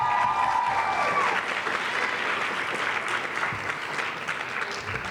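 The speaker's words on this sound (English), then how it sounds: "Let's give them all another round of applause." Audience applause at a youth summit in Riverside County: a burst of clapping from a seated crowd that starts strong, then softens slightly and carries on steadily to the end.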